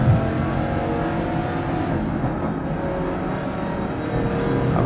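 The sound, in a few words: race car engine revving in Grid Legends video game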